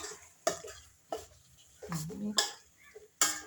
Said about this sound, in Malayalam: എല്ലാ മീനും അതിലോട്ടിട്ട് ഇനി നല്ലോണം ഇളക്കി വെച്ച് കൊടുക്കട്ടെ